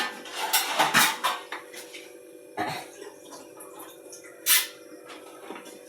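A lid set down on a cooking pot after water is added, a few clattering metal knocks and clinks near the start and again later, close and moderately quiet over a faint steady hum.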